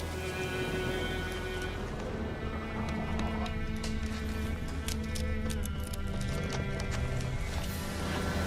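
Horse hooves clip-clop steadily in Witcher 3 gameplay, with a rhythmic clatter over a dense music bed and occasional whinnies.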